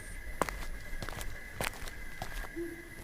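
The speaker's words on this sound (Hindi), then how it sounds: "बाहर किसी के चलने की आहट सुनाई दी।" Footsteps outside, used as a story sound effect in a mysterious village tale: several distinct, faint steps at an uneven pace, with a soft crackle and a low background hum.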